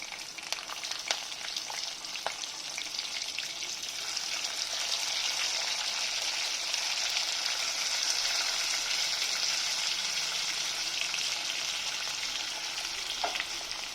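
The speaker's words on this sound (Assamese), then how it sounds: "আৰু এতিয়া মই পিঁয়াজখিনি অকণমান লাইট গোল্ডেন ব্ৰাউন হোৱালৈকে ভাজিম" Chopped onions fry in hot oil with whole spices for a chicken curry, giving a steady, close, continuous sizzle with faint crackles and no voices.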